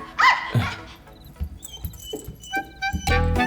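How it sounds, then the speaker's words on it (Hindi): A dog whimpers in short high cries, then gives a few yips and closer, louder barks near the end, the sounds irregular and fairly close. "जिमी, दूर से देखकर ये भौंक रही थी, पास जाने पर प्यार से चाट रही थी।"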